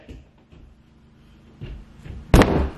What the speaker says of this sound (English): you was finna break my door down, bro.